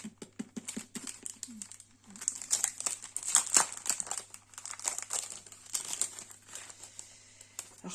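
Crinkling plastic packaging of silver holographic sticker sets being handled up close, with irregular bursts of crackle and rustle throughout, no talking.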